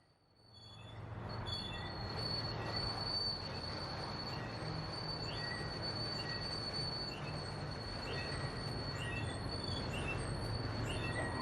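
A freight train of vehicle cars pushed by BNSF ET44C4 locomotive 3889 rolls by with sustained high-pitched wheel squeal over a steady rumble, the squeals rising and repeating as it passes fairly close, with no voices.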